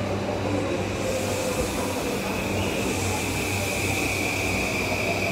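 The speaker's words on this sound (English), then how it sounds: "Ayan, may train sa likod ko. JR line po yan." A JR line train passing close by, giving a loud, continuous rushing rumble with a faint steady whine that fills the whole stretch without a break.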